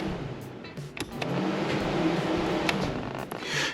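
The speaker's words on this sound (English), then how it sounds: "So the fan will turn on when we push this." Electric radiator cooling fan on a supercharged Foxbody Mustang switched on by a push button, giving a steady whirring hum that rises and holds through the clip, with a few faint clicks and no talking.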